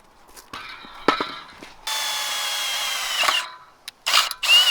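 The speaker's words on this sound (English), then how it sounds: "Let's go drill this one out." A power drill whirs in short bursts, then runs in a sustained high-pitched whine before stopping and starting again in brief spurts, close by, drilling out a part on a BMW E30 suspension.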